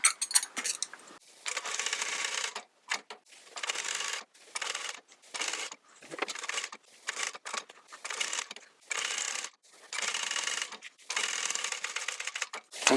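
An upholstery sewing machine stitching a chair collar, running in rapid mechanical bursts broken by short pauses, close and moderately loud with no voices.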